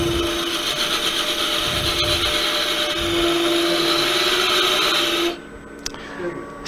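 A wood lathe spins a peppermill blank while its spigot is sized under power: a steady, loud whirring drone with a voice over it, then the machine cuts out abruptly near the end.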